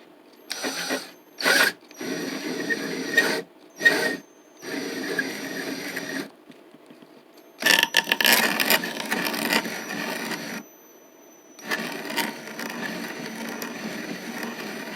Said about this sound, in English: Unfortunately, I only have this 1 1/8 spade bit, which is probably ½ an inch too big